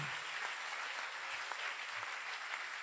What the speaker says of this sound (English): You can clap those hands.